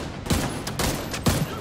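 Rapid gunfire in Tom Clancy's The Division 2, two clustered bursts of shots about a second apart, loud and close, with no talking over them.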